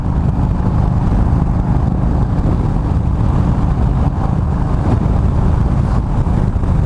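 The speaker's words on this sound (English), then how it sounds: "Amongst all this is a goddamn dust storm." Strong dust-storm wind roars across a Harley-Davidson Road King motorcycle on a Utah highway, a constant loud low rumble of buffeting wind and road noise with no break.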